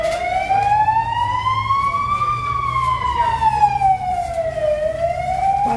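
An emergency vehicle siren wails during a fire in Üsküdar, Istanbul, near a street market. One continuous tone slowly rises and falls, loud and clear over a low crowd murmur and a background hum.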